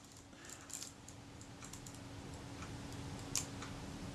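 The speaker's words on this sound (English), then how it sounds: "Just hear that tiny click there, that's the shutter cocking." Tiny mechanical clicks and ticks from a Kodak Retina IIIc shutter being cocked, faint and close, scattered through quiet background hiss with one slightly sharper click near the end.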